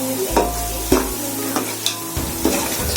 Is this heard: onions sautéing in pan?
yes